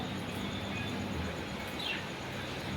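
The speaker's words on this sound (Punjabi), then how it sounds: "ਲੋ ਜੀ ਮੀਂਹ ਪੈ ਗਿਆ" Steady rain falls, a constant broadband hiss without pauses, with a faint bird chirp briefly audible in the background.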